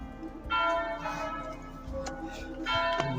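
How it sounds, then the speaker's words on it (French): Church bells ring out with loud, resonant strikes that overlap and hang in the air, several clangs following one another over a few seconds with no talking. "C'est magnifique ces cloches."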